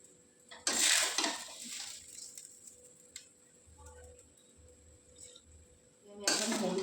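Fried rice being tipped from a pan into a cooking pot on a gas stove, with two short bursts of scraping and rattling at the start and end and a quiet, low background hum between them.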